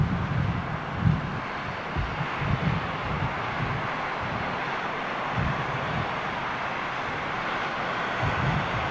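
A Virgin Atlantic Boeing 747, G-VLIP, lands and lowers its nose. A continuous rushing roar carries dull low thumps, steady and fairly loud, with no talk over it.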